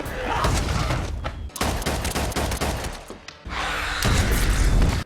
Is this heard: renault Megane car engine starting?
no